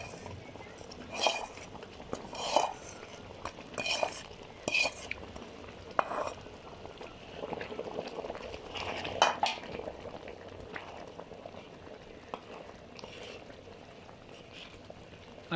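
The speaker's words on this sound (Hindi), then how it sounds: "अभी इसके अंदर जो हमने वो बनाया था सूजी का और मैदे का पेस्ट वो भी डाल रहे हैं।" Semolina and flour paste is poured into boiling sugar syrup in a pan and stirred in for sooji halwa. Bubbling sits under scattered clinks and scrapes of a spoon against the pan at close range.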